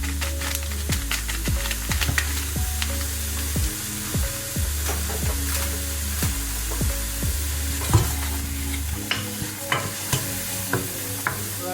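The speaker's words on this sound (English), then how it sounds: "now we're adding some black pepper, some spring onions" Black pepper and spring onions go into a pot for a vegan broccoli and potato soup, with a steady close sizzle of frying under repeated scraping stirs of a spoon against the pot.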